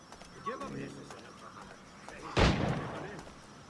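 Cannon fire in Assassin's Creed 4 Black Flag booms out once, a loud broadband blast with a rumbling tail, following faint birdlike cooing and distant ambient game noise.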